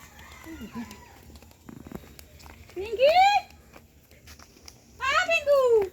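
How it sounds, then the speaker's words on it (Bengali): A hen clucks in a farmyard, with two loud rising squawking calls standing out near the middle and end of the clip while someone talks in the background. "মুরগি মা ভালোই করছে ডিম পারে না গো মুরগিতে"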